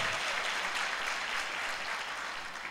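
Steady applause from a church congregation clapping for Jesus, a dense, even wash of hand claps sustained throughout without pause.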